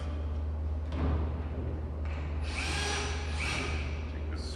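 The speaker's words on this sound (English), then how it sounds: "the screw gun" A cordless screw gun whirs in short bursts while setting up a jigsaw jig pivot point, the motor rising and dropping over a steady low hum, close and fairly loud.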